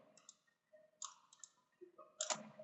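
Mouse clicks while working in CATIA V5 design software come as a quick series of close, crisp clicks in small clusters against near silence.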